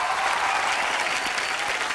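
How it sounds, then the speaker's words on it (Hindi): A studio audience on a comedy talk show claps loudly and steadily to welcome a film actor guest, a dense burst of applause lasting about two seconds. "जोरदार तालियां एक बार कार्तिक के लिए"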